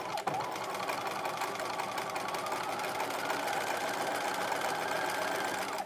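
A sewing machine stitches a quarter-inch hem around a 1950s-style halter dress skirt at regular stitch length, running steadily and close by for the whole stretch.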